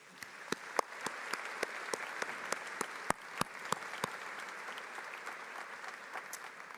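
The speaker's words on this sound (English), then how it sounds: "Please join me in applauding these special guests." An audience claps steadily, with scattered sharper claps standing out from the continuous patter; no one speaks.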